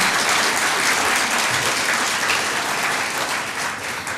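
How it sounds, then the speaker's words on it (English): Dense, steady clapping from a large lecture audience fills the whole stretch, loud and continuous, easing slightly toward the end. "Can we give one more round of applause?"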